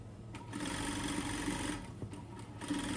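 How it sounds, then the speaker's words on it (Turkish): Tracksuit seam running through a sewing machine, a steady close mechanical whir of stitching that rises and holds, with brief pauses and a short burst again near the end. "dikişimizi çekiyoruz"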